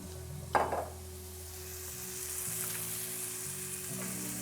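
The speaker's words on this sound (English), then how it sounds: "we start pan frying these sweet potato fries" Sweet potato fries pan fry in olive oil with a steady close sizzle, opening with a brief louder splatter as food hits the pan, then an even bubbling hiss over a low hum.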